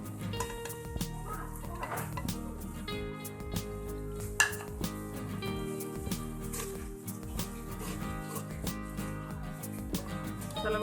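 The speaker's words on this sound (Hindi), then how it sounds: "मसाला को थोड़ा फ्राई करेंगे।" Spices frying with browned onion and garlic in a pan give a steady soft sizzle, while a spoon clinks and scrapes against the metal as the mixture is stirred; music plays faintly behind.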